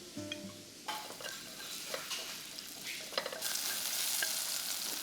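Shallots and garlic fry in hot oil in a pot, giving a steady, close sizzle that swells louder partway through, with a few light scrapes of stirring and no talk.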